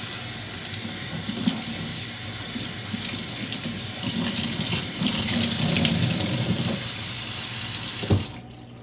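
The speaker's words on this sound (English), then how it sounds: "I'm using warm water and just some regular orange scented Dawn dish detergent." Warm water runs steadily from a tap into a sink, a continuous close splashing rush for about eight seconds that cuts off abruptly near the end, with no talking.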